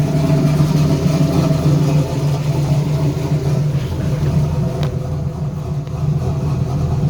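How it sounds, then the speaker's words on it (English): A 1997 Trans Am WS6 with an LT1 V8, freshly tuned and running an LS PCM swap, idles steadily with a deep, even low rumble that stays loud and close, with no talking. "the car is running, as you can see"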